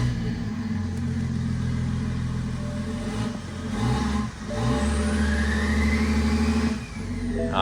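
A car engine with a blown valve cover gasket runs close and loud at a steady, rough drone, with a couple of brief dips and surges as the throttle is blipped.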